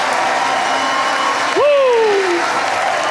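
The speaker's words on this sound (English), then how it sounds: "give the pastor and the first lady a hand clap for what God is doing through them" A church congregation at an evening revival session claps for the pastor and first lady, sustained applause with a loud cheering voice breaking in partway through.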